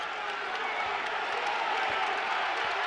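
Basketball arena crowd at a Western Kentucky home game against New Mexico State, a steady broadband roar of cheering that stays loud and even throughout with no distinct claps standing out.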